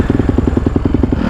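Honda CRF450R supermoto motorcycle engine running out on the road, a close, steady pulsing thump of firing strokes with some mechanical clatter, loud throughout and with no voices.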